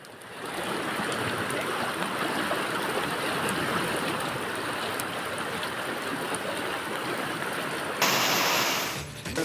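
Heavy monsoon rain and rushing floodwater in Hubli, Karnataka: a steady, dense roar of pouring rain and flowing water that fills the whole stretch, swelling slightly louder near the end, with no voices.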